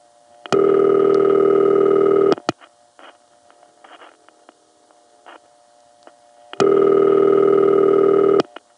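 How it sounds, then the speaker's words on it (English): Two long, steady buzzing ring tones from an old crossbar telephone exchange, each about two seconds, separated by a quiet gap with faint clicks and rumbles. "The most famous ring of this type was Hempstead's #1 crossbar ring"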